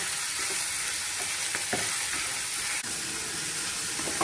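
Bitter gourd pieces fry in hot oil in a pan and are tossed with salt, giving a steady loud sizzle with occasional scrape and clink of the stirring utensil, no voices.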